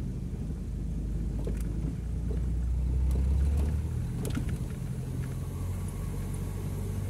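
A Ford Del Rey automatic with a broken transmission runs close by, its engine giving a steady low rumble that swells slightly as it is revved but fails to climb in pitch.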